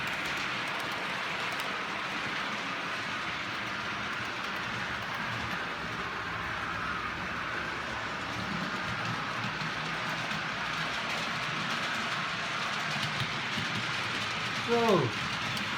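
A model railway train with old Pullman coaches runs along the layout with a steady, quiet rolling rumble and faint mechanical clicking, ending in a brief squeal.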